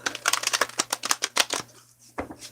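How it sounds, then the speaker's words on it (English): Tarot cards being shuffled in a series of quick, crisp riffling bursts, close and fairly quiet, with no talking over them. "one more shuffle"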